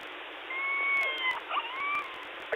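A small mechanical toy cat plays a meow sound, two drawn-out meows in a row that come through a narrow, tinny band like a radio link, loud and close, with no talk.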